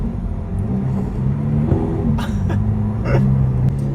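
A Lamborghini SVJ engine rumbles steadily at idle with a deep low drone, and the note swells briefly in a couple of throttle surges. A few sharp clicks are also heard, with no talking.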